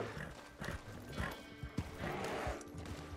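A horse in the Red Dead Online video game clip-clops along with hoof thuds and a brief whinny, at moderate level amid game ambience.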